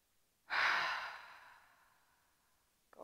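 A single long, breathy inhale during a yoga exercise, close and soft, swelling quickly then tapering off over about two seconds before a brief new breath begins.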